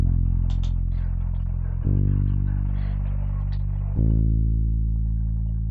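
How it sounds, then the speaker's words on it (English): A deep synth bass from the Purity plugin in FL Studio plays a loud Afrobeats bassline, holding sustained low notes that shift pitch twice, with faint clicks and percussive ticks sitting above. "So I just used Purity, and the bass sounds like this"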